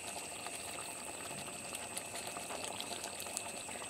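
Katla fish kalia, a Bengali curry, bubbles steadily in a pan, with a continuous soft simmering hiss and faint popping throughout and no voices.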